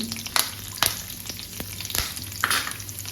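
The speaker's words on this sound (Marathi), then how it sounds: "ते आपण लगेच मिरची टाकायची त्याच्यामध्ये" Green chillies, with curry leaves, spit and crackle as they fry in hot oil for a javla dish, a steady close sizzle broken by sharp popping bursts, with no talking.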